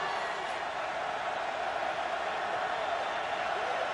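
A huge stadium crowd roars at a 2006 USC vs Oregon State college football game, a dense, steady wall of cheering noise that holds at full strength without a break.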